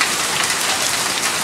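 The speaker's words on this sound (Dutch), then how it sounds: "Het hagelt al zeker een minuut of 8, 9" Hail pelting down steadily during a hailstorm in Utrecht, a dense, continuous hiss of impacts with no pauses, loud and close throughout.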